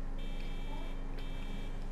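Car horn from Grand Theft Auto V gameplay, heard as a steady, loud electronic buzzing tone that holds for nearly two seconds over a dense hum of game engine noise.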